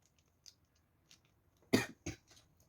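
A person preparing macaroni salad in a home kitchen gives a pair of sharp coughs close by in an otherwise quiet room, with a few faint clicks and small kitchen noises before and a softer throat sound after, and no speech.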